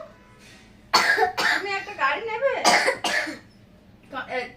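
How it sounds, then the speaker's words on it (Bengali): A child coughs a few times in short bursts close by, mixed in with an adult talking. "দেখি তোমার কাশি হচ্ছে"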